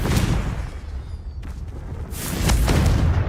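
A Confringo fire spell explodes in the video game Hogwarts Legacy, a rumbling blast with a crackling tail, then a second burst rises near the end, loud and close with no talk.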